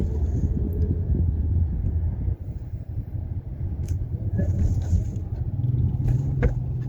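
A Honda Civic driven by a learner on a two-way city road, a steady low engine rumble with road and wind noise from inside the car, continuous and fairly close.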